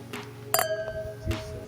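Two or three bright clinks as glasses touch in a toast at a gathering in Lebanon, with one clear ringing tone that lingers; quiet background, no talking.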